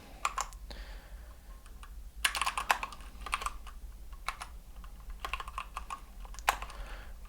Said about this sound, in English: Okay, let's just type it.